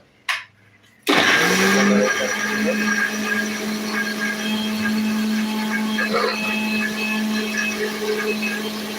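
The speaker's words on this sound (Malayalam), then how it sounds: "വെള്ളം ഒന്ന് ഒഴിച്ചു കൊടുത്ത് നമുക്ക് നേരെ മിക്സി ഒന്ന് നമുക്ക് ഇതിലേക്ക് വെക്കാം ഒന്ന് ജസ്റ്റ് ഒന്ന് അടിച്ചെടുക്കാം" A kitchen mixer grinder switches on after a brief knock and runs loudly and steadily, blending ingredients with water in a high-pitched whirring motor drone that holds to the end.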